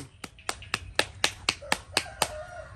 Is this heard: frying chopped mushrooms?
no